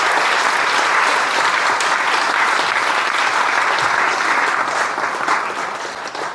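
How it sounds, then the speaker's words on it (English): Enthusiastic applause from a sizable crowd, dense and steady clapping that tapers slightly toward the end. "Let's have a round of applause."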